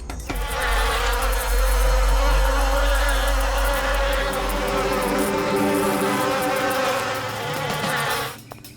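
A honeybee hive buzzes with a dense, continuous drone of many bees, loud and close, holding steady for several seconds before it fades near the end.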